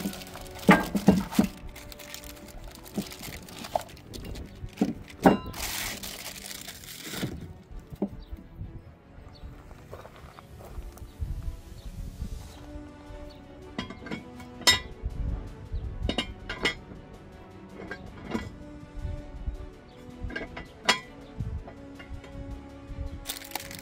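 Packaging for Harbor Freight jack stands being unpacked and opened, with irregular crinkling, crackling plastic and sharp metallic clinks and taps, close by with no talking.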